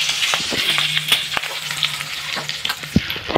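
Curry leaves, mustard seeds, cumin and spice powders sizzle loudly in hot oil for a cluster bean curry, a steady close crackle broken by sharp pops and spatters, with no voices.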